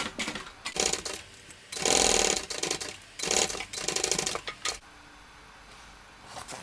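Sewing machine stitching the lining of a shoulder bag, running in several short bursts with pauses between, close and fairly loud, ending in quieter handling noise.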